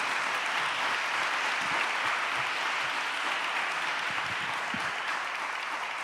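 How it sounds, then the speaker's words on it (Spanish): Audience applause at a documentary film seminar, a steady wash of many hands clapping that holds evenly throughout, heard from a moderate distance. "Un gran aplauso, por favor."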